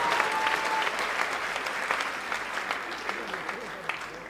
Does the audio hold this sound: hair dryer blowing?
no